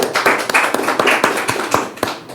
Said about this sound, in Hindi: वर्षिप टीम के लिए भी हम जोरदार ताली बजाते हैं